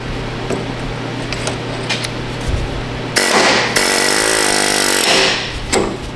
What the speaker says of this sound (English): take my air hammer and just basically relieve the pressure